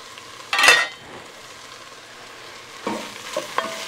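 Garlic dropped into a pan of frying onions, celery and peppers for jambalaya sets off a sharp burst of sizzling, which settles to a low simmer and then flares again with stirring near the end.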